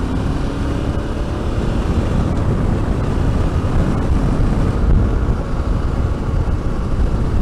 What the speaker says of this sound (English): The wind is blowing in my face like a hurricane.